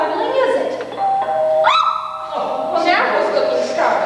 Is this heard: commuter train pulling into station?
no